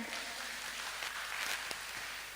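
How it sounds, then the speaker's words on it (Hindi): Applause from the audience at a jubilee felicitation ceremony, a continuous wash of many hands clapping at even loudness throughout. "एक बार फिर से सिस्टर जी के लिए तालियां हो जाए."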